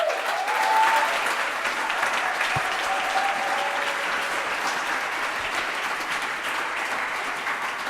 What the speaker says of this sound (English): So I want a big warm, a little bit, well, too overwhelming applause for the first one, Thimon de Jong, everyone.